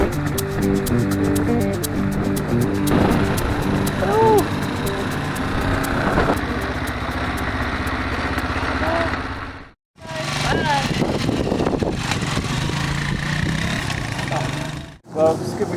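A motorcycle riding along a road in Mongolia near the town of Sharga, with a continuous loud engine drone and wind buffeting broken by two brief dropouts, under a speaking voice.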